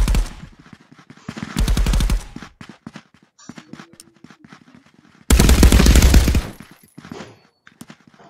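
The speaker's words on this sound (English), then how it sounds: "I shoot him a few times, though." Bursts of automatic gunfire in the VR shooter Contractors VR, played on the Slums map in control mode: a dense rattling volley, a quieter stretch of scattered shots, then a second loud sustained burst, close and punchy.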